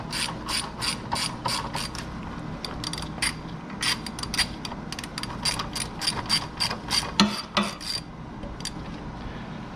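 A ratchet wrench with a 6-inch extension clicks rapidly in bursts of quick, crisp pawl ratcheting while working on a Suzuki Kizashi, close up and repeated in several runs with brief pauses between them.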